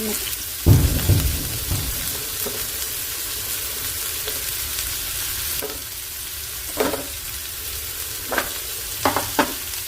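Onion, shallot and garlic added to popped mustard seeds in a hot pan: steady close sizzling and frying, with several louder scraping and stirring knocks of a utensil against the pan.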